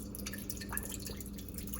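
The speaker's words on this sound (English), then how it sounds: "I try to always water just the base and just get the soil." Water dripping from a watering onto the soil at the base of a potted succulent, a soft, steady patter of small drops close by with a faint background hum.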